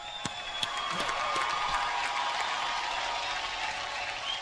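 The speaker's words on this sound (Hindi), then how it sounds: "तो आज की शाम की शुरुआत करते हैं आपकी जोरदार तालियों के साथ।" Audience applause fills the hall at a Filmfare awards show, a dense, steady wash of clapping that holds throughout without speech over it.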